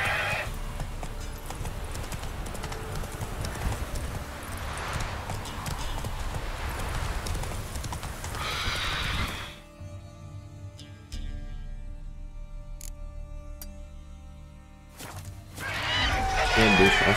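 Horse hooves clip-clop at a steady trot in The Witcher 3, mixed with game music and ambience and briefly cut off by a quiet gap. A faint whinny comes near the end, and a voice speaks over parts of it.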